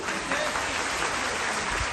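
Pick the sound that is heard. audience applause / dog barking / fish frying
audience applause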